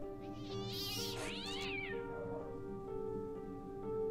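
A cat meows in the video game Fran Bow, a loud drawn-out yowl rising and falling over a steady hum of game music.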